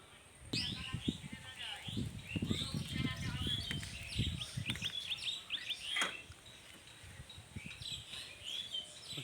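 Birds chirp and sing outdoors in bright, repeated bursts of tweets and calls, fairly near, mixed with a voice talking at times underneath.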